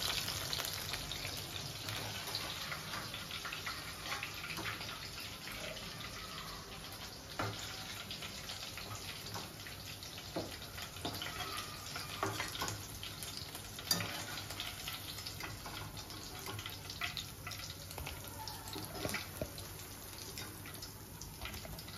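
Chicken 65 pieces deep frying in hot oil, a steady even sizzle with occasional stirring clinks, moderately close and continuous.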